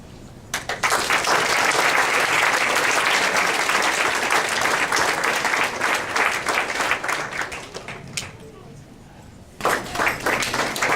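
Clapping from the audience at a school board meeting, a sustained, fairly loud burst of many hands that thins out near the end before a short second round of claps.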